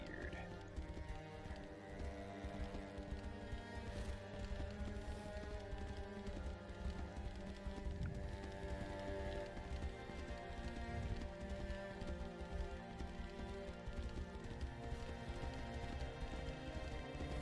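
Horse hooves clip-clop steadily while riding in the video game Tainted Grail: The Fall of Avalon, a continuous galloping rhythm heard fairly quietly and alone.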